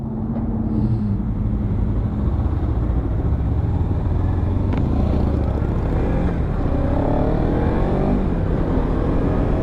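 A Kawasaki Ninja 300 ABS motorcycle engine runs with a steady, close rumble that swells into a rev near the end. No one speaks.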